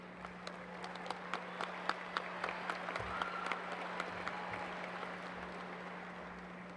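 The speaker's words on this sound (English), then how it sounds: "Let's give a round of applause for all these talented musicians." Graduation ceremony audience applauding for student musicians in a large venue, a dense, steady wash of clapping from a big crowd heard at a distance over a constant low hum, lasting throughout.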